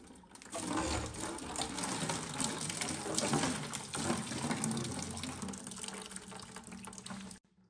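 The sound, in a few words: water draining from disconnected water softener pipes into bucket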